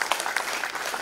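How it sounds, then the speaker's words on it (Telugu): An audience at a kabaddi association general meeting gives a short burst of dense, brisk applause, fairly close and without voices on top. "ప్రేక్షకులకు మనం ఒక్కసారి చప్పట్లతో చూడటం వరకు"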